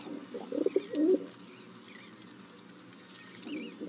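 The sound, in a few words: feral city pigeon cooing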